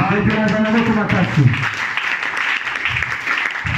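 A church congregation at a fasting prayer service applauds and cheers for God, a dense wash of clapping and voices that starts loud and stays steady, with a preacher's voice heard over it at the start.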